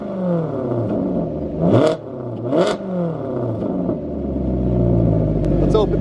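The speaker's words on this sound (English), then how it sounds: "Normal mode, valves closed." A flood-damaged exotic sports car from a salvage auction, fitted with an Urutu non-resonated X-pipe, revs in normal mode with its exhaust valves closed: two sharp throttle blips close by, then a rising, sustained engine drone.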